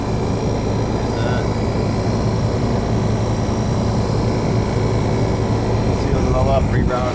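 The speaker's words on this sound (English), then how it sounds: "as you can tell, the compressor's roaring" Compressor of a 1971 Philco Ford 11,000 BTU window air conditioner roaring in a steady, loud drone with a constant hum, and a brief chirp near the end.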